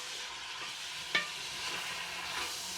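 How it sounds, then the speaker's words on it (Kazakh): Chicken pieces sizzling steadily in hot oil in a pan, with one sharp scrape of a utensil as the meat is stirred, a continuous close frying hiss throughout with no talk. "Қызып тұрған майымыздың үстіне тауық етін салып қуырамыз"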